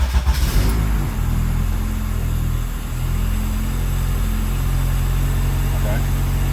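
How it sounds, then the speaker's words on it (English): A Honda Civic EM2 with an all-wheel-drive conversion, rear limited-slip differential and ABS retrofit starts up. The engine settles into a loud, steady, close-up drone with a low rumble, and voices are faintly present. "I turned on the car"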